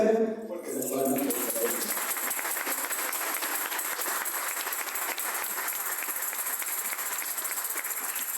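Sustained audience applause at a book presentation in Chiclayo, Peru, following a university tuna performance; after a brief moment of voices and music at the start, steady dense clapping continues at even loudness to the end.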